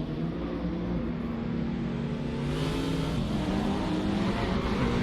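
Race cars in a video game race start, including a Porsche 911 GT3 RS, roar together in a dense, steady engine drone that stays loud and continuous throughout, with no talk.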